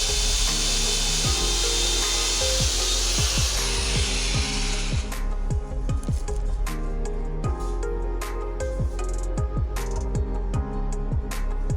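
A blade saws through a rear foot peg bolt on a Honda CT125 Hunter Cub motorcycle, making steady, loud, close rasping strokes in a fast rhythm with no talk.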